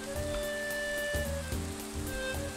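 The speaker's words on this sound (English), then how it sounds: "It is raining way too much here." Steady rain hisses down in a Minecraft game world, a constant even patter under a faint tonal background, with no one talking.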